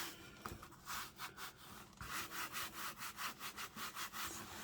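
Paper being rubbed up and down inside an altered file folder journal, a rhythmic scratchy back-and-forth rasp repeated many times, close and fairly quiet.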